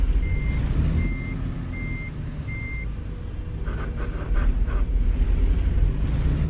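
A truck reversing in a video game, with four evenly spaced reversing beeps followed by a low engine rumble and a few clanks, heard alone without talk.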